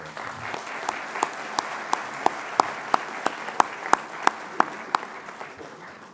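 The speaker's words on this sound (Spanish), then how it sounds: "Démosle un aplauso al comité." Audience applause for a committee at a national coffee growers' federation management report, a dense, steady round of clapping with sharp individual claps standing out throughout.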